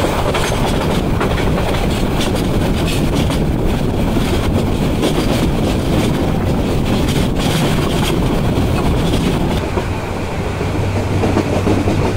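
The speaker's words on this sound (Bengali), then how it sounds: "রাত 9টা 1 মিনিটে ট্রেন ছেড়ে গেল ঢাকা বিমানবন্দর রেলওয়ে স্টেশন।" The Tista Express intercity train runs on the Dhaka–Jamalpur line at night, a loud, steady rumble and rattle of wheels on rails heard from inside the carriage, with a low hum joining near the end.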